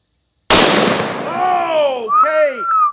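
A 4 bore rifle fires a 400 grain Rigby brass solid at a Russian ballistic shield, one sharp loud blast followed by a long rolling echo and ringing decay, heard outdoors with no voices.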